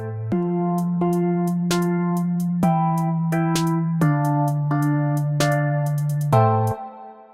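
A programmed trap-style beat lays crisp snare hits and ticking hi-hats in an even pattern over sustained bass and melody tones. The beat ends abruptly.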